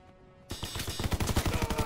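Rapid rhythmic bursts from a Star Wars-style laser gun in Call of Duty WW2, a fast steady stream of sharp pulsing shots starting abruptly after a brief quiet lead-in, loud and close.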